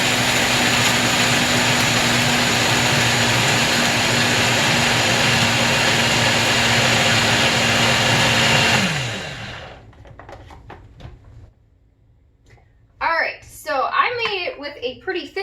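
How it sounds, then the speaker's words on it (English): A blender whirs loudly and steadily while blending a thick coconut shake, then spins down and stops, followed by a pause and a voice speaking. "So let me blend this up"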